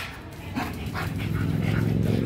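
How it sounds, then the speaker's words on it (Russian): Mongrel dogs are heard close by, panting and giving soft whimpering, yelping sounds. A person talks over them. "Эти собаки, дворняги, они не вмешиваются."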